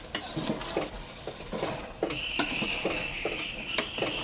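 Fish curry made with coconut milk bubbles in a pot while being stirred, with a busy close simmering crackle, soft spoon scrapes against the pot and a few light clinks.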